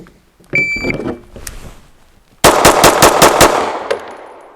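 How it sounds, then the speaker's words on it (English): At a shooting range, six rapid gunshots ring out from a double-stack 1911 pistol, loud and evenly spaced in a quick string, preceded by an electronic beep from a shot timer. "Now I'll set up for the 6 shots."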